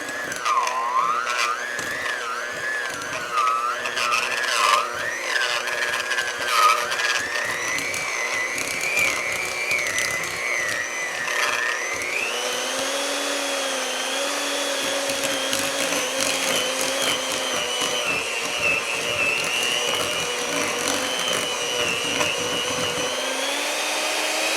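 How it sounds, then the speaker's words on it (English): An electric mixer beats lemon cheesecake filling, a loud steady whine that strains and wavers in pitch, then settles into a higher, harsher drone for the rest of the stretch, with no talking. "did you hear my little, like, mixer was just like, it was working so hard"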